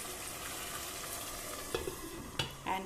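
Egg curry in a spicy coconut milk gravy bubbles and sizzles in a pan, a steady close hiss broken near the end by a few sharp clinks and scrapes.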